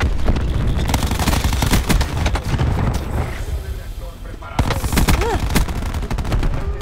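Rapid automatic gunfire crackles loudly in dense bursts during Call of Duty Black Ops 4 multiplayer, pausing briefly before more shooting resumes, with faint voices under the fire.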